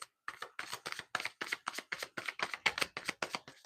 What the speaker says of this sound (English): Another cards are shuffling